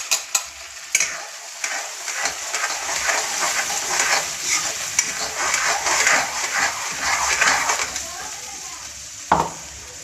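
A paste of onion, tomato and cashew frying in a pan makes a continuous sizzle with stirring scrapes and a few sharp utensil knocks, close and moderately loud.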